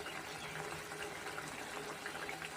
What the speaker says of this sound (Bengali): মাছটা ফুটছে